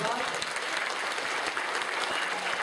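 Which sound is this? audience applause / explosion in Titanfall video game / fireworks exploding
audience applause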